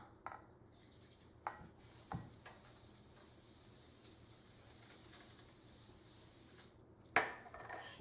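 A can of cooking oil spray is sprayed onto food in a kitchen, producing one steady hiss lasting about five seconds. A few clicks and knocks come before and after it.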